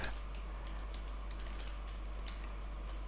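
Computer keyboard typing of a Minecraft chat command, a steady patter of light clicking keystrokes, fairly faint and close, over a constant low hum, with no talk.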